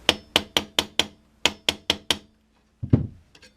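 Sharp metallic hammer blows ring out in a quick series of about nine strikes with a short pause, then a couple of duller knocks, as a wheel balance weight is hammered on through a Kawasaki Ninja motorcycle's brake hub.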